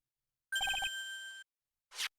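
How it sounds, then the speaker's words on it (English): A Nokia mobile phone ringtone sounds inside a courtroom game scene: a quick run of four bright electronic beeps, then a sustained tone, briefly cut off, followed moments later by a short burst of noise. "Sorry, that's my phone. It's a Nokia."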